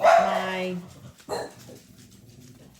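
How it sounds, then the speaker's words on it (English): Dogs bark indoors, a loud sharp bark up front followed by a second shorter bark, while someone speaks over them. "sorry about the dogs."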